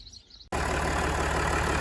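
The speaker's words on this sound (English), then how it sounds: "And with the engine started," A 2012 Range Rover Sport SDV6 diesel engine starts abruptly after quiet and then runs at a loud, steady idle, a dense constant drone filling the rest.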